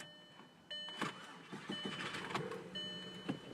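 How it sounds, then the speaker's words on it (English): A VW Passat 2.0T with a misfire starts up: a short starter crank, then the engine catches and runs at idle, heard faintly and close, with some clicks and no talking. "Let's see if it starts up."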